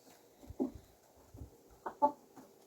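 A few short rooster clucks and calls, somewhat distant and moderately loud, in bursts over quiet farmyard background.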